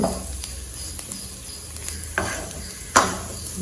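Chili powder sautéing in a pan for paneer potato cutlets gives a steady soft sizzle with scraping stirs, sharper clicks of a utensil against the pan near the end, close and without talk.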